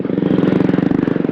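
A Honda RS 125 carbureted motorcycle engine runs loud and close during a ride, a rapid, evenly pulsing drone with a steady throbbing rhythm throughout.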